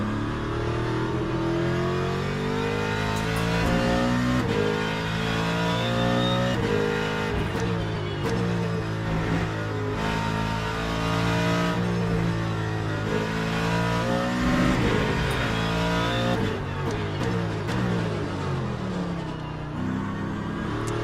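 A Mustang GT race car in the sim racing game Le Mans Ultimate roars continuously, its engine climbing and dropping through gears with revving sweeps and brief tire squeal, loud and up close throughout.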